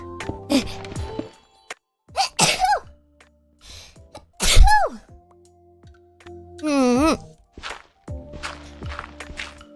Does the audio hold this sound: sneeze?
yes